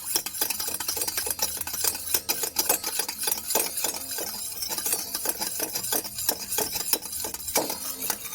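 A utensil stirs lemon juice into milk in a pan, producing a dense, continuous run of scraping and clinking strokes, quick and rhythmic, close and loud with no talking.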